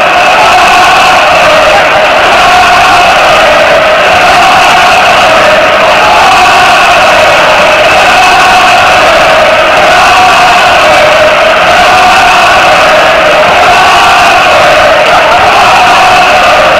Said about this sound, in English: where you try to get in the other team's goalie's head by serenading him